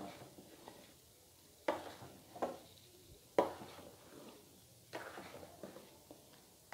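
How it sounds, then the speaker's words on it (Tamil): Jaggery syrup is stirred in a pot for sweet pongal, heard as a few quiet, spaced scraping strokes against the pot, with no one talking. "சேர்த்துட்டு ஒரு முறை நல்லா கிளறி விட்டுருங்க."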